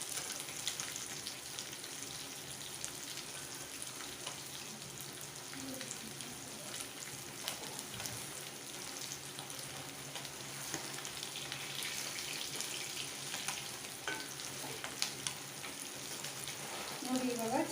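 Fish frying in a pan, with a steady, dense sizzle that runs throughout at an even level and carries faint stirring sounds and brief clinks.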